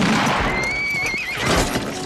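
A horse gives one loud, close whinny that rises and then wavers down, with hoof clatter and movement around it.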